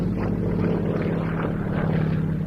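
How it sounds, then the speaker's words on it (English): Yak-52 aerobatic aircraft, a Romanian-built piston-engined trainer, droning steadily overhead at a display day, with a continuous loud propeller hum and no pauses. "Yak-52s like this became immensely popular as private owner and aerobatic aircraft in the West"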